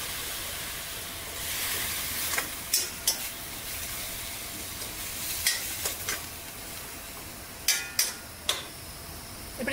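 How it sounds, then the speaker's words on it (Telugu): Tamarind leaf dal simmering in a pan gives off a steady, fairly quiet hiss and sizzle, with a few sharp ticks and pops scattered through it. "కొంచెం సిమ్ చేస్తున్నాను."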